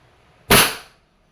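One sharp crack from a Wingun 708 gas airsoft revolver fired single action, a sudden bright pop with a short hissy tail, alone against a quiet background.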